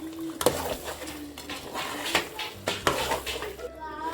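Chicken curry and cream stirred together in a pan at home, a utensil scraping and clinking against the metal in a few louder knocks amid steady soft stirring.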